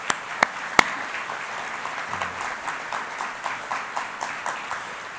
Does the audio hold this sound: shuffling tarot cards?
no